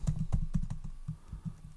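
Someone types a name on a computer keyboard, a quick irregular run of close, crisp key clicks with no talking.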